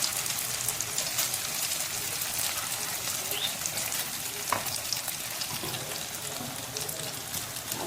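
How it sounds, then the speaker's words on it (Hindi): An egg frying in hot oil in a pan, a close, even spitting crackle like rain on a surface, with a few brief sharper pops along the way. "ऑयल गरम में अंडे को डाल दिया।"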